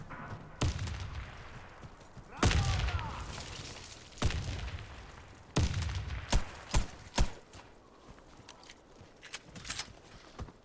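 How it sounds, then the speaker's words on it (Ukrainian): A shooter video game plays a grenade explosion and gunfire: several sharp loud blasts and bangs, some with booming tails, are spread unevenly across the span, with faint voices at times. "Кидаю гранату!"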